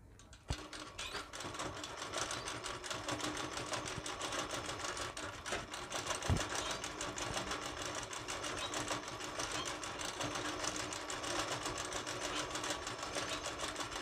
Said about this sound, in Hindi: जब मैं मशीन को चलाऊँगा इसको मैं आगे पीछे करता रहूँगा